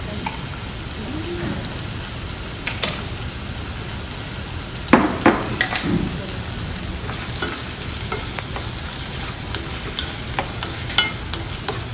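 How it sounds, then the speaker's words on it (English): Spicy bean sauce with tomatoes sizzles and fries in hot oil in a pan, a steady close crackle with occasional scraping stir strokes and no talking. "you need to stir fry with the oil so that you get all the flavor coming out"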